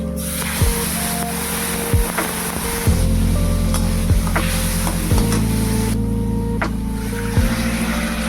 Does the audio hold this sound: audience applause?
no